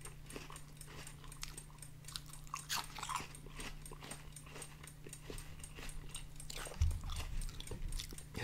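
Crisp bites and wet chewing of a juicy red apple, close and quiet, in repeated crunchy bursts with no talking.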